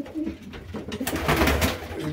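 Close, repeated throaty coos come from a racing pigeon in its loft after a marathon flight, with brief rustling noises between the calls.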